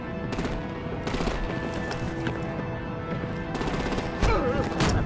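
Rapid bursts of automatic gunfire rattle through a tense shootout in the Batman: The Enemy Within game, repeated volleys over a dense, busy background of music and effects.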